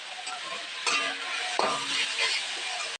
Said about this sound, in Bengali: তো দেখো শাকটা আবার ভালো করে ভেজে নেব।